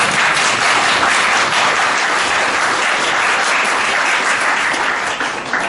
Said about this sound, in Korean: 그동안 고생을 많이 하신 분 중에 한 분이신 염영숙 위원장님께 박수 한번 보내드립니다